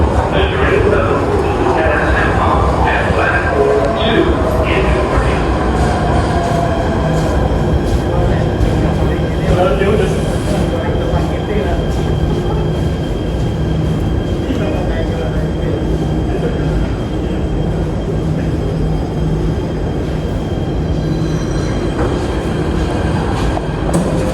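Loud rumble and clatter of an Indonesian commuter train in motion, with wheel noise and a public-address announcement in Indonesian and English playing over it.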